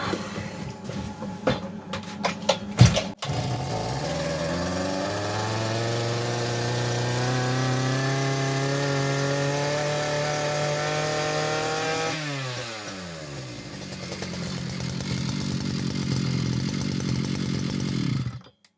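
A Kitprom petrol brush cutter is pulled a few times, catches and fires up, then its small two-stroke engine revs steadily, dips briefly to idle and climbs again before cutting off, loud and close.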